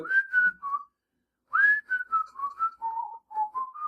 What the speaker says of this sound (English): My whistle drives everyone crazy.